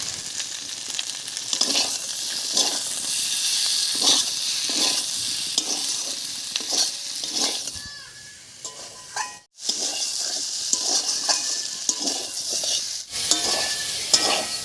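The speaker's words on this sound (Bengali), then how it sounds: "মশলা দিয়ে সব কিছুর সঙ্গে খুব ভালো করে মিশিয়ে নিয়েছি।" Potato and eggplant stir-fried with slit green chillies and cumin paste in a pan, steady sizzling broken by regular scraping strokes of a spatula, with a brief lull and a couple of sharp clicks.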